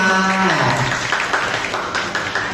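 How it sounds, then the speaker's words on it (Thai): An audience claps loudly for a contestant at the Thep Phusaphan goddess pageant in Uttaradit, Thailand. A dense, crowded burst of applause follows a brief tone and carries on for about two seconds. "ขอเสียงปรบมือให้กับเทพี"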